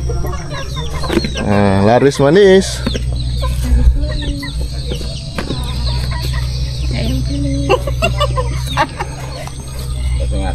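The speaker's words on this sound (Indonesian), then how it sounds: "Nah, ini kandang ayamnya nih, ayam kampung." Free-range village chickens in a coop cluck and squawk up close, one bird letting out a rising, loud call, while people talk nearby throughout.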